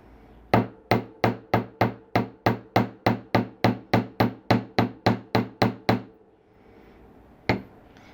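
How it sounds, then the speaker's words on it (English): A hammer strikes wire being flattened for wire weaving, about eighteen sharp, evenly spaced metallic taps in quick succession, a pause, then one last tap, close and alone. "we're just going to come in here with our hammer. I'm going to start at the center and work out, and I'm just flattening"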